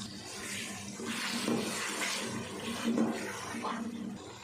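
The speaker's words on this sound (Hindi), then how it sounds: "और अब डाल देंगे पानी।" Water poured into a pot of spiced potato and egg rice pulao, a continuous gushing, splashing pour with rising and falling surges, at moderate level and close by, with no talking.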